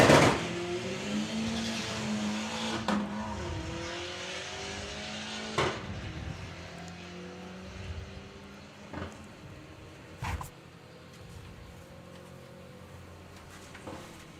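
VW Sportsman drag racing cars at a National Finals event launch down the strip, engines droning and rising in pitch as they pull away into the distance, with a few sharp bangs along the way.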